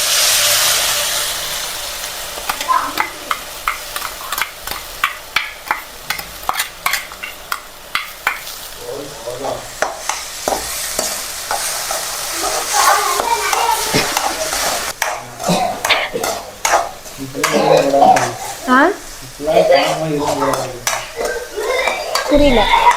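Tomatoes are added to a frying pan for chicken curry and stirred, giving repeated scraping spoon strokes over a sizzling hiss, with busy clatter in the later half. No one speaks.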